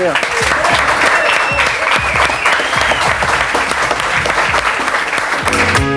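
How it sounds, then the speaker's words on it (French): Audience applause on a French late-night television show, as steady dense clapping with music and crowd noise mixed in, ending with a musical sting. "Voilà, on les applaudit."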